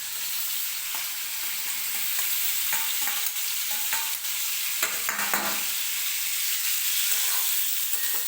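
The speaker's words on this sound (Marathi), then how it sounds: "हा फ्लॉवर आणि बटाटा जो आपण पाण्यामध्ये उकळून घेतलेला आहे तो 1-2 मिनिटासाठी मी तेलामध्ये परतून घेणार आहे" Boiled cauliflower and potato sautéed in hot oil give a steady, loud sizzle throughout, broken by repeated scraping clicks of a spoon stirring the pan, close by with no talking.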